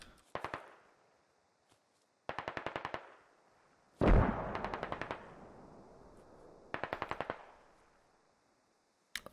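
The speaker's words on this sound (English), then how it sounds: "Shots are coming in towards the building here." Automatic gunfire in the Squad military shooter game, several sharp rapid bursts separated by pauses, with one heavier blast or impact around the middle that rumbles and decays; distant-to-mid range, no talk.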